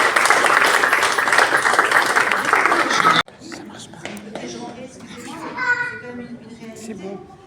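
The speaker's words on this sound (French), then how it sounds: "Vous pouvez applaudir, même si ce n'est pas tous là." Applause for parents at a French community project gathering, dense clapping for about three seconds that cuts off abruptly, followed by children's voices and murmured talk in the room.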